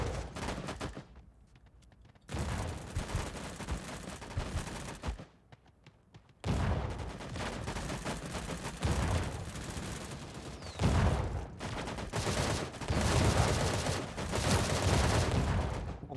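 Gunfire in the battle royale game Sausage Man: dense, loud bursts of rapid shots and booming fire that break off into short quiet gaps, then resume and build into sustained heavy volleys near the end.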